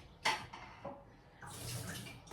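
Tap water runs into a water bottle in a home kitchen in Germany, a short splashy gush followed by a steadier hissing stream as the bottle fills, close and moderately loud with no talk.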